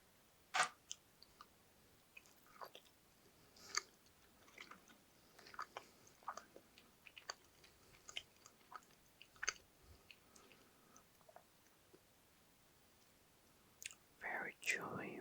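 Bites and chewing of Brazilian chocolate truffles (brigadeiro), soft sticky clicks and mouth sounds picked up very close and quiet, scattered across the stretch with a louder burst near the end, whispering faintly in places.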